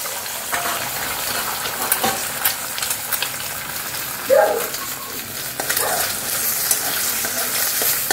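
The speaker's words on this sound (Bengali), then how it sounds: "ডিমটা ভেজে নেব।" An egg frying in a little white oil in a pan, soft steady sizzle with stirring scrapes and a louder crackle burst near the middle.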